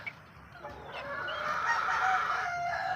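Young roosters (stags) crow and cluck close by, a rising crow swelling over the last two seconds above a steady farmyard background.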